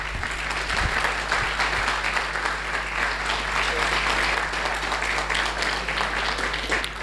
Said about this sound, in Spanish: Vamos a pedir un aplauso muy fuerte para Marcos.